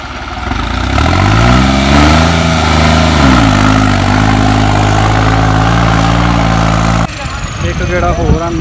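A tractor engine with the diesel opened fully, in a 70 hp 3630 versus modified Sonalika 750 contest, drones loudly and steadily, its pitch climbing and dipping under strain before the sound cuts abruptly near the end.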